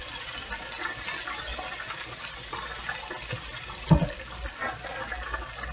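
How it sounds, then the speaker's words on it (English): Water is poured into a pot of spaghetti sauce with the season pack, a soft continuous splashing and trickling with a brief sharper clunk midway, close and fairly quiet. "Starting out with a half a cup of water,"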